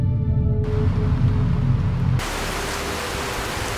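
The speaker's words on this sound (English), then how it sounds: "Why the hell is it even raining on a moon?" Rain falling on a moon in the space game Space Engineers: a steady hiss of rainfall under a low droning tone, which then gives way to a thinner, even wash of rain.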